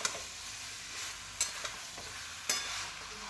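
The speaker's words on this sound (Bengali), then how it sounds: "তো দেখো আমি সমস্ত কিছু দিয়ে মশলার সঙ্গে কিন্তু ভালো করে মেখে কষিয়ে নেব।" Diced young jackfruit tossed with spices sizzles steadily in a pan while it is stir-fried for a jackfruit and shrimp curry. A few sharp scrapes of a spatula sound up close over the hiss, and no one speaks.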